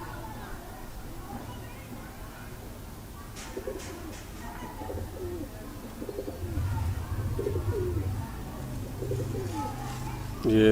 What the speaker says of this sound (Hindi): जी भाईजान, ये कबूतर देखें